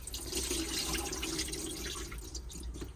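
Water drains and trickles steadily from the sink of a 2025 Auto-Trail V-Line 540 motorhome, a close, continuous gurgling flow with small drips throughout.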